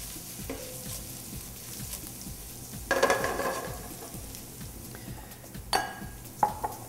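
Vegetables sautéing in a pan on the stove give a soft steady sizzle while a utensil stirs and scrapes, with a few sharper clinks and knocks against the pan standing out above the low frying hiss.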